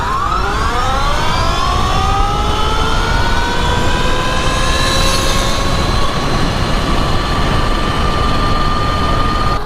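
A 72 volt Sur Ron electric dirt bike on 12-inch wheels with a 62 tooth sprocket accelerates down a track, its motor whine rising steadily in pitch over wind and road rumble, loud and continuous throughout.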